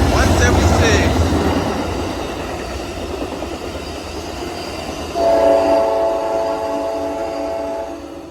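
An Amtrak Coast Starlight passenger train rolls through the Oakland Coliseum station with a loud rushing rumble, and its horn blares partway through as it passes close by.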